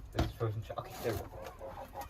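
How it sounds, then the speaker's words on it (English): Chickens in a backyard coop on a freezing snowy day, giving soft low clucks and murmurs close by, faint and irregular. "So those are our chickens."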